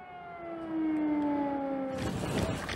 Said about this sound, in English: are forced to seek safety when an air raid siren rings out